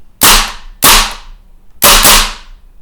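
Three sharp, loud cracks from a WE Apache MP5A3 gas blowback airsoft rifle, each shot followed by a short hissing decay, spaced unevenly with a longer gap before the third, close by and with no talk.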